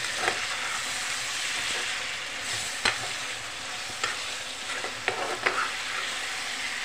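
Tomatoes fry in a pan with oil while a spoon stirs them. A steady sizzle runs throughout, and sharp scrapes and clicks land every second or so, close up with no talking.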